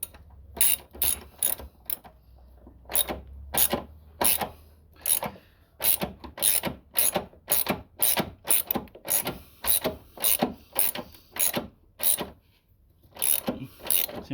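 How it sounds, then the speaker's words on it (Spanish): A screw is driven into a loose door hinge with a ratcheting screwdriver, giving a rapid series of sharp repeated clicks in bursts across the whole stretch, close and clear with no talking. "vamos a poner el tornillo que falta"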